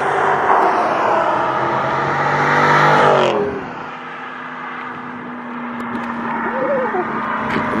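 Stock Dodge Scat Pack exhaust roars loudly through a hard rev that cuts off abruptly near the middle, settling into a lower idle rumble, with a voice briefly heard over it.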